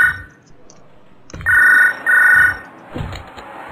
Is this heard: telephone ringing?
yes